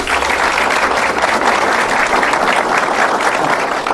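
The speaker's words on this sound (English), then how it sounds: "Can I ask that we give them a round of applause, please?" Sustained applause from a studio audience welcoming first-time guests on a Nigerian quiz show, a dense steady wash of many hands clapping at even loudness throughout with no pause.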